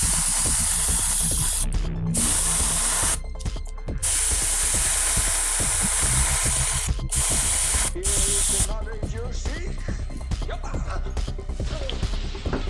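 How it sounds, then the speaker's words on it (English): Aerosol spray paint in pure light gray hisses onto a model kit's canopy in short, loud bursts separated by brief pauses, followed by a few small clicks and rattles of handling. "Now, I want the canopy to be just a hair lighter than the rest of the body, so I'm spraying this with pure light gray."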